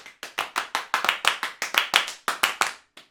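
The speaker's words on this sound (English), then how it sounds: "When I say play, I mean clap." Rhythmic hand clapping during a string quartet rehearsal of Beethoven's Op.59 No.1, fourth movement, with about fifteen sharp, close claps in a steady patterned beat and no talking.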